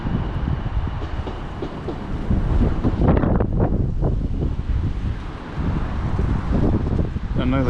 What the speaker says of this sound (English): Oh, is that a gust of wind doing that?